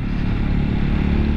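A TVS Apache 200 4V fuel-injected motorcycle engine runs steadily while riding in third gear, a continuous loud, close low-pitched drone with a rough rhythmic pulse and no talking.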